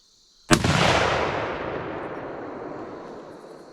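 A Ruger American deer rifle fires once at a shooting range. The shot is a single sharp, loud crack followed by a long rolling echo that slowly fades.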